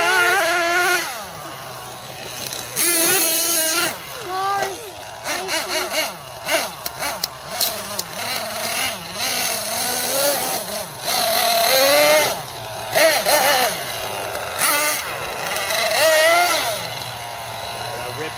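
A Team Associated MGT 8.0 nitro RC monster truck engine revving and racing down a road: loud buzzing, rising and falling whine with throttle blips and gear shifts, close by and continuous, occasional voices over it.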